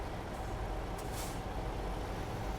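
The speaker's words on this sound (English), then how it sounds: "a cool concrete pump" Heavy truck rumbling in American Truck Simulator while a concrete pump truck is on the scene, a steady low engine drone with a brief hiss like an air brake release near the middle.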